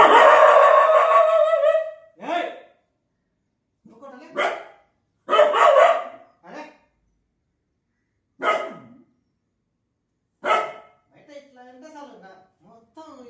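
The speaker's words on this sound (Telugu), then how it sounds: "బయట కుక్కలు అరుస్తాయి కదా" Dogs bark outside in scattered single bursts separated by silent pauses, fairly loud and close, with a long drawn-out call at the start.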